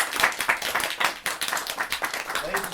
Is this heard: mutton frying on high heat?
no